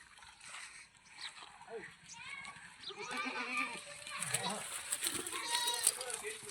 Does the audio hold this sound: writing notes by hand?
no